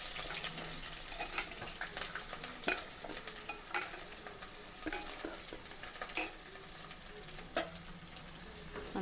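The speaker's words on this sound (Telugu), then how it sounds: "whole garam masala onion fry చేసుకోవాలి" Onions fry in oil with garam masala, ginger-garlic paste and coconut powder for a homemade chicken curry; a quiet sizzle runs under repeated scraping stirs at irregular intervals, with no talking.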